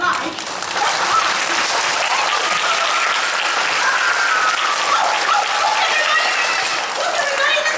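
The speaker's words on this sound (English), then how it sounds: "Oh, you can clap if you like." A theatre audience at a family stage show breaks into steady applause, a dense wash of clapping with a little laughter, sustained for several seconds.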